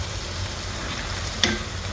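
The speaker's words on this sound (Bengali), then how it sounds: "আবার এটা একটু কষাবো ভালো করে, আর একটু ভাজা ভাজা করে নিব" An onion and mustard masala is stirred and fried in a pan, giving a steady close sizzle with one brief scrape of the spoon partway through.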